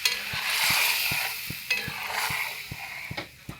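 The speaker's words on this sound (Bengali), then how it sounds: "আর দিয়ে দেবো অল্প জল।" A splash of water hits a hot frying pan and sets off a loud, steady sizzle, with a run of sharp, evenly spaced clicks from a spoon stirring against the pan throughout.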